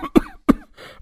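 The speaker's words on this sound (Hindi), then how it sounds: "तभी अचानक उसे बहुत तेज खांसी आने लगती है।" A man coughs hard twice in quick succession, each a sharp, close, forceful burst followed by a rough breathy tail.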